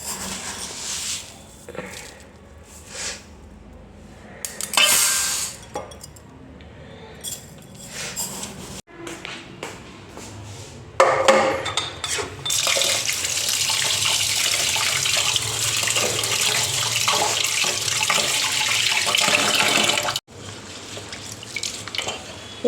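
Rice is scooped from a storage container in a home kitchen with a few light knocks and rattles. A tap then runs steadily for several seconds as the rice is washed, and the flow stops abruptly near the end.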